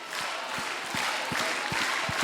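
A studio audience applauds at a live televised talent show, a steady, dense wash of clapping that swells slightly and holds throughout.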